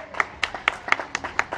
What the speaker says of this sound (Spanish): Un fuerte aplauso para Misterios, por favor, que nos vino a dar este taller